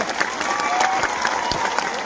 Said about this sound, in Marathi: एकदा जोरदार टाळ्या होत्या स्वतःसाठी